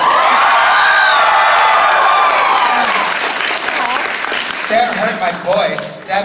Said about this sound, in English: if I scream chocolate really loud, you have to cheer really loud after I do it